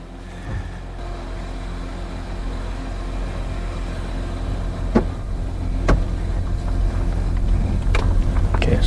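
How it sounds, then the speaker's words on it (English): Audi Q7 with a turbo underboost fault out on a test drive: a steady low engine and road drone inside the cabin, slowly building, with a few faint ticks and no talk. "So let's just go for a test drive now."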